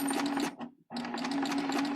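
Serger sewing machine running steadily while gathering fabric with a slight fold, a close, loud whirring stitch that stops briefly, then resumes for another continuous burst.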